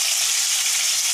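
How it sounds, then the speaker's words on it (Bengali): Fish fries in hot oil in a pan and gives off a loud, steady, close hiss and crackle, with no one speaking. "মাছ ভাজি হয়ে গেছে। এখন পেঁয়াজ দিয়ে দিব"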